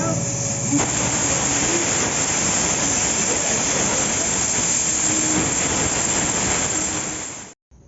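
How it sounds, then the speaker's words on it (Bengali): A pressure cooker cooking mutton curry vents a long, loud, continuous steam hiss that holds steady for several seconds before cutting off abruptly near the end. "প্রেশার কুকারের ঢাকনা আটকে প্রেশার কুকারে পাঁচটা সিটি দিয়ে নিলেই"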